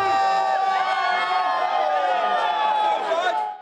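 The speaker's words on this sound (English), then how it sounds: "Bucks fans are going crazy after that big win" Milwaukee Bucks fans in the Deer District celebrate a playoff win as a dense, loud crowd roar of many overlapping voices and cheers, steady throughout before easing slightly at the end.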